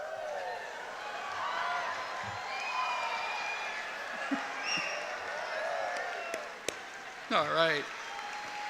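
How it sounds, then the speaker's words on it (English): Graduating class of 2018 applauds their families at a high school commencement, a broad wash of crowd clapping and scattered whoops with a voice speaking briefly over it. "the class of 2018 as they lift their applause to you in appreciation for all you have done on their behalf"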